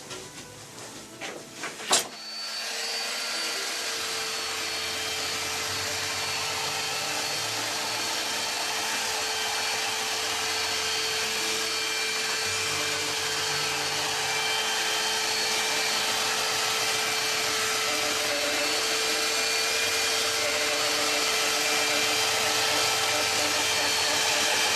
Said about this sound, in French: On va poncer pour obtenir les transparences et les perspectives.